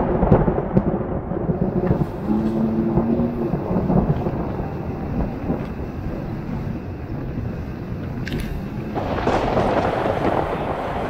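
A thunderstorm builds over open sea off the Florida Keys, heard from a boat as a continuous low rumble and rushing wind noise, with a few brief tonal sounds along the way.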